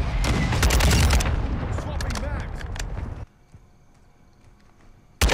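Gunfire in Call of Duty: Modern Warfare: a rapid, loud stream of shots for about three seconds, ending abruptly into near silence, with one more sharp burst at the very end.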